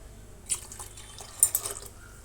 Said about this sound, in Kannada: ಮೂರು ಚೆಂಬು ನೀರು ಸರಿಯಾಗಿ ಸೇರಿಸಿದ್ದೀನಿ ಅದೇ ಚೆಂಬಲ್ಲಿ